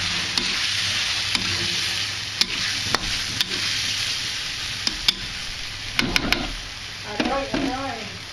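Pad see ew frying and browning in a pan: a loud, steady sizzle runs throughout with scattered sharp clicks of a utensil on the pan, and scraping stirs toward the end. A voice can be heard faintly.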